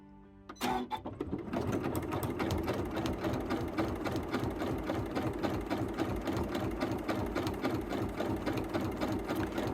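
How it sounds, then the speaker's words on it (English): Sewing machine with dual feed running a serpentine decorative stitch: a steady, rapid, rhythmic mechanical clatter that starts after a brief click and continues unbroken, close and moderately quiet. "Now I'm going to switch over to my serpentine stitch, and we can just use the edge of our foot and sew along"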